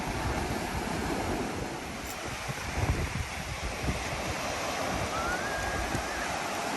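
Ocean surf washes steadily onto a beach in the west of Ireland, a continuous broad rush of breaking waves mixed with wind buffeting, with no voices.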